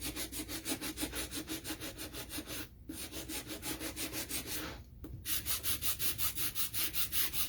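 Acrylic file sanding the edges of a wooden house shelf sitter, quick even back-and-forth rasping strokes close up, rhythmic and continuous with two brief pauses.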